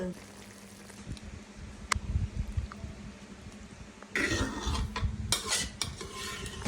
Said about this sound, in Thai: ใส่ไข่ ซอสหอย เรียบร้อย ตักใส่จาน